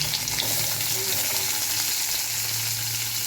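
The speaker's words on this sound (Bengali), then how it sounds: "জিরা একটু ভেজে এবার পেঁয়াজ দেব দিয়ে ভাজব" Onion frying in hot oil with cumin seeds and bay leaves for a Bengali fish chorchori, giving a steady, close, continuous sizzle that holds evenly for the whole stretch with no talking.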